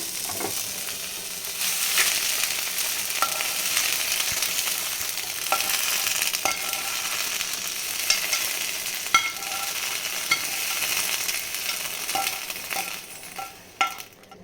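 Fresh green peas roast and sizzle in a pan with a steady frying hiss and a run of clicks and scraping stirs, fairly close and loud with no talk, and the sound thins out at the end.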